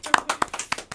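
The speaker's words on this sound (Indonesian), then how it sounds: "Tapi tepuk tangan dulu untuk Mbak Niam" A few people clap briefly for Mbak Niam at an Indonesian vodcast, giving a short burst of scattered handclaps, near and fairly light, with no talk over them.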